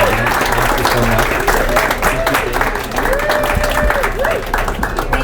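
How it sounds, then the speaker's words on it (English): Audience applause at a gala event rises as sustained clapping from a crowd, with voices and steady tones running underneath. "Let's all give Jing and Sara a round of applause for a beautiful event."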